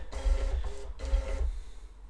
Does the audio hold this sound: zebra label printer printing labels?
yes